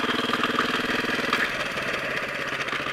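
A Suzuki GSX-R motorcycle engine hums steadily and loudly while riding, a continuous mid-pitched drone with wind rush and no break throughout.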